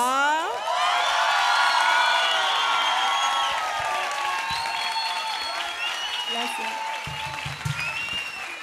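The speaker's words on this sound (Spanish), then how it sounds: "ustedes aplauden a reventar para que suene como una cosa" A television studio audience bursts into loud applause mixed with high cheers and whoops that swell at the start, then settle into sustained clapping with scattered shouting voices.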